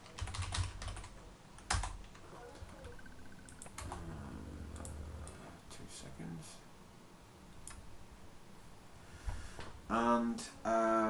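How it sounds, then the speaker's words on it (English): Keystrokes on a computer keyboard, close and moderately loud, come in short clusters with pauses between them, and a voice speaks briefly near the end. "I'm just going to type figure."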